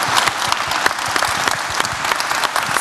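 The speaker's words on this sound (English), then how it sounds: "give a round of applause to Erin and the RegoDesk team" An audience at a Linux Australia conference closing gives a dense, steady round of applause, many hands clapping at once, loud and continuous throughout.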